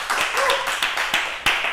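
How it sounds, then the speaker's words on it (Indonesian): Students in a classroom clap for a classmate during an Islamic religious education microteaching lesson, a brief patter of hand claps with a voice faintly underneath. "Tepuk tangan buat Mas Bagus."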